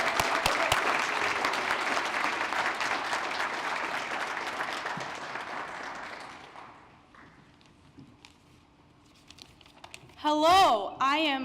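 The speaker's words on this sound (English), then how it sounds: "A round of applause" Audience applause welcomes a speaker to the podium at a College of Pharmacy anniversary celebration, steady and dense for about six seconds before fading out, with a brief burst of other sound near the end.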